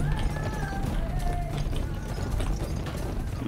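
A horse gallops in the western video game Gun, with rapid, continuous hoofbeats under a busy mechanical rattle, steady in loudness across the stretch.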